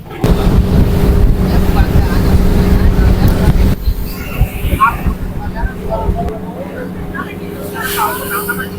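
A loud, rumbling boat engine drones close by for a few seconds on an island-hopping trip off Boracay, then fades as wind buffets and voices chatter over it.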